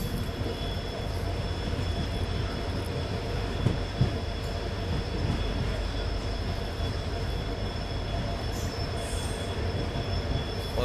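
The Rajasthan Sampark Kranti Express rolls into Degana Junction, its wheels squealing in a loud, sustained high whine over heavy continuous rumble for about eleven seconds, with faint thumps of passing wagons and no talk.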